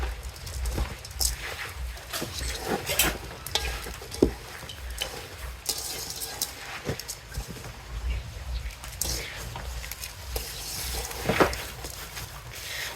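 Irregular scraping, squelching and clinking as broken rice and taro leaves are mixed by hand or spoon in a pan, with soft sizzling in the background.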